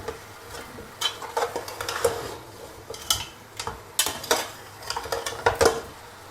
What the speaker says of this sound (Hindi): ये देखें जी, अच्छी तरीके से गोश्त भुन रहा है माशाल्लाह से।